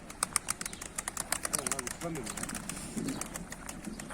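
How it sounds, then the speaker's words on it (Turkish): A pigeon's wings flap in quick, close bursts, with soft cooing and chirps and a few low voices murmuring nearby. "Şunun kanat seslerine bak."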